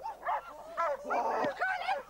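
A military dog in bite training barks and yips repeatedly in short excited bursts, close by, with whining tones between barks.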